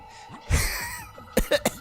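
A few harsh coughs after laughing sound close up, one longer burst followed by three quick, short ones.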